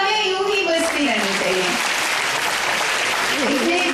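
Continuous, dense audience applause at a foundation's annual award ceremony honouring women, loud and steady throughout with a voice speaking over the clapping.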